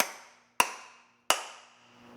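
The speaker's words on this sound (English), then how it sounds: "and then smack the hammer handle." Two sharp, distinct smacks on a wooden hammer handle driving the head on, each a crisp close crack with a short ringing decay, spaced under a second apart.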